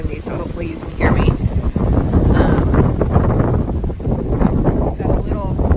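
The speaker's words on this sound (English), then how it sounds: "it's very windy, so hopefully you can hear me." Strong wind on a lakeside hiking trail in Georgetown, Texas buffets the microphone in a steady, loud roar, with someone talking over it throughout.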